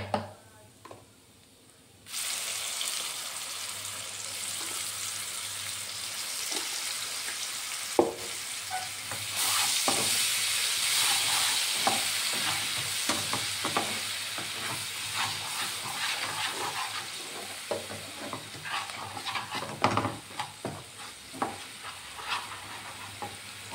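A prawn curry masala with tomato puree fries in a hot pan, a steady close sizzle and hiss broken by repeated scraping and clacking stirs that grow busier toward the end; no one speaks.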